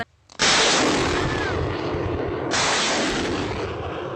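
A sudden, very loud roaring blast erupts after brief quiet and sustains as a heavy rushing roar, surging again midway, like a rocket launching nearby.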